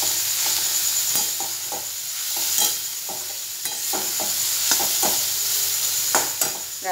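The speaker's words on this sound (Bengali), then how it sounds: "আমি একটু ঘি, একটু ছোটো এলাচ দিয়ে গাজরটা একটু" Grated carrots fry in ghee with green cardamom for carrot halwa, a constant sizzle broken by repeated scraping taps of a spoon stirring the pan, with no talk.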